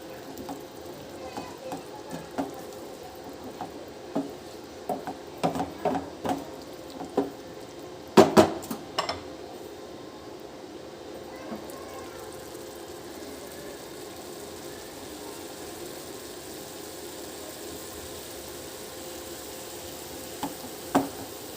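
A rice mixture with chili sauce cooks gently in a pan for leftover BBQ rice, giving a quiet, steady sizzle with soft clinks and stirring scrapes, and a sharper burst of clatter midway.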